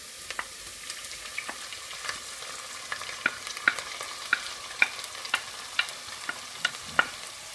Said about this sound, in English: so I will lower the heat and let's add chopped liver